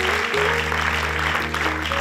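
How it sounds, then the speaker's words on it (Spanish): Applause from an audience greets a film's director and lead actor before a screening, a steady wash of clapping under a low electrical hum in a large hall. "Recibamos con un caluroso aplauso a su director y por supuesto a su protagonista"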